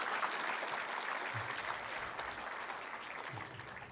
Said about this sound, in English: Audience, can we please have a round of applause for the online stated speaker?